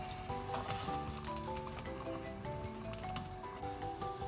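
Onion tossed into a hot pan sizzles steadily while sea bream aqua pazza cooks with garlic, a continuous close frying hiss with faint clinks, no talking.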